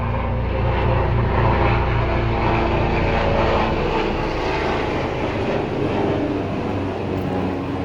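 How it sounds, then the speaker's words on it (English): An airplane flies overhead, its loud, continuous propeller-engine drone and low rumble filling the whole stretch before it eases off slightly toward the end. "Let's let that airplane go by."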